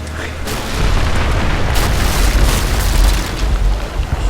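Loud, sustained explosion rumble from the Rise of the Tomb Raider game, with deep booming bursts and debris noise that swell and roll on for several seconds, close and dominant.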